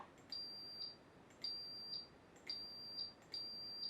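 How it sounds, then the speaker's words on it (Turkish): A small buzzer on a Pinoo electronics board sounds note D8, a high, piercing electronic beep repeated four times, each tone lasting about half a second with short gaps between, clear and close with no talk. "Buzzer'ım da çalıyor."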